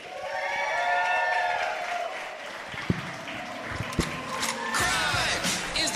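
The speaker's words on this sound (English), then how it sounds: "Please give a big round of applause for Rich Slaton and John Shefsky." Live audience at a podcast taping in Sacramento clapping and cheering for the hosts, a broad crowd roar with whoops and a few sharp hits, loud and sustained throughout.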